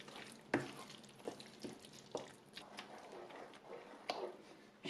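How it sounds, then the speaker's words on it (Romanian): A mushroom pie filling with beaten eggs is mixed in a bowl: quiet, rhythmic scraping and stirring strokes about twice a second, close by and alone. "Amestecăm bine totul."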